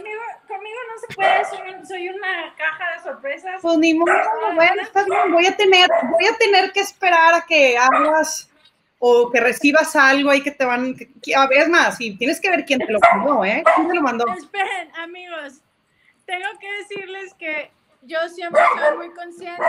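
A dog barks and yips in the background of a Spanish-language talk show, the short barks partly masked by a woman's fast, continuous speech.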